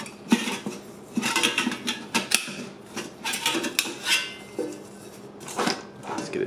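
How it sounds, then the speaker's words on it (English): Stanley Base Camp camping cookset being nested together, metal pots, a folding frying pan and bowls clinking, scraping and knocking in repeated bursts close up, with no talking. "I think the frying pan sort of collapses on itself and goes over the bowls"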